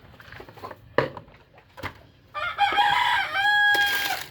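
Fayoumi chickens on a farm cluck and call close by, with scattered scratching and pecking at first, then a run of loud overlapping squawks and clucks toward the end.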